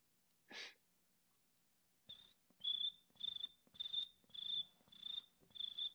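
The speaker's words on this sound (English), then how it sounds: "Is that you, cricket sound?" A cricket chirps in a steady series of about seven sharp, evenly spaced trills, close and clear, after a brief breathy burst and a short pause.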